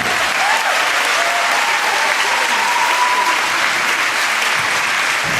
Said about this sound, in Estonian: aplaus iseendale, aplaus oma partnerile, aplaus oma rühmale ja kõigile teistele rühmadele.